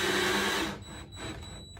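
A power drill's broadband motorized whir, driving a screw into plastic, cuts off partway through, followed by quieter mechanical noise with faint high-pitched tones.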